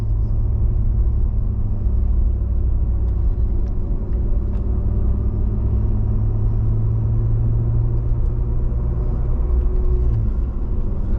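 Steady deep rumble from a 2008 Chevrolet Corvette C6RS Pratt & Miller V8 while driving, a loud continuous low drone heard from inside the cabin with no talking.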